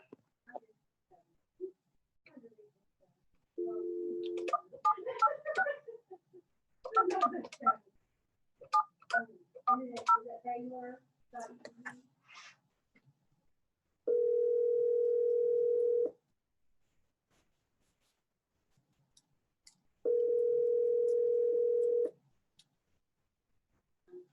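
Telephone keypad tones and a dial tone from a phone on a call: a jumble of short dialing beeps, then two long steady tone bursts a few seconds apart, with gaps of near silence between.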